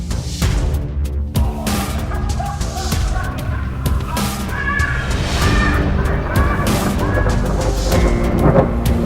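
Thunder from a severe thunderstorm with strong wind rolls in as a deep, loud, sustained rumble over a constant roar of wind and rain, building toward the end, with a few sharp cracks and faint background noises.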